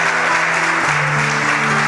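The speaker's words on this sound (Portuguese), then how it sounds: "Vamos aplaudir a palavra do Senhor." A church congregation claps together during a worship service, a dense, steady burst of applause with sustained music underneath throughout.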